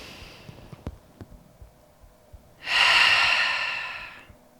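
During a trauma-informed yoga breath meditation, a single long exhale whooshes out clearly for about a second and a half, preceded by faint soft shuffles and quiet background.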